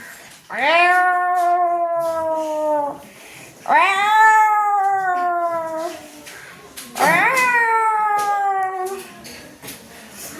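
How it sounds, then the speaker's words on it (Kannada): Cats yowl and caterwaul in three long, rising, drawn-out wails, loud and close, with brief pauses between them. "ಇನ್ನೊಂದು ಬೆಕ್ಕು ಬಂದಿತ್ತು. ಅದು ಜಗಳವಾಡಲು ಶುರು ಮಾಡಿತ್ತು. ಜಗಳವಾಡುವಾಗ ಅದರ ಧ್ವನಿ ಹೀಗಿತ್ತು."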